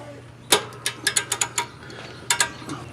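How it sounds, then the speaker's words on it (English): A 1/2 inch ratchet working in the square hole of a Kubota Z725 mower deck plate gives a series of sharp, close metallic clicks, a quick burst of about six, then two more after a pause, with no talking. "Just put a 1/2 inch ratchet in there."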